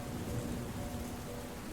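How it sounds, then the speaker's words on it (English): Steady, dense rain from a nighttime thunderstorm in an airplane video game. It pours as a constant, even hiss with a low rumbling undertone and no talking. "It's nighttime and it looks like we are inside a storm."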